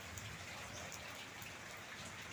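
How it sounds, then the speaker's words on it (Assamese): Heavy monsoon rain falls in a steady, dense hiss with no pauses, faint and distant-sounding, with no voices. "একদম বৰষুণ, বহুত বৰষুণ হৈছে।"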